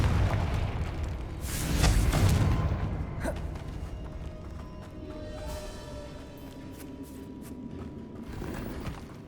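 In the Hogwarts Legacy video game, a Confringo spell sets off an explosion: a deep booming rumble swells to a peak, then fades into a lingering, noisy roar with a sharp crack near the start.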